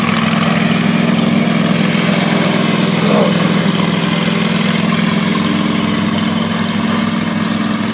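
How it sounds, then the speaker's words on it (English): A small engine running on dry vapor fuel idles smoothly and steadily, a loud, even hum with no stumbles or surges from start to finish. "The engine doesn't bog down. Runs just as smooth as silk."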